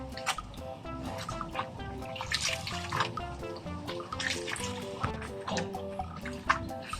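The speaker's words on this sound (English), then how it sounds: "Always remember to rinse it 3 times." Water splashes and trickles steadily while a salt-cleaned, stained cloth is rinsed by hand, close up and moderately loud, with irregular sloshing and dripping throughout and no talking.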